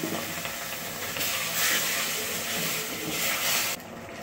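Water splashed into a hot pan of frying onion, tomato and spice masala for egg gravy gives a loud steaming hiss that swells midway, then drops sharply to a quieter simmer.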